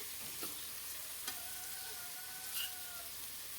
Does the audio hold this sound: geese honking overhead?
no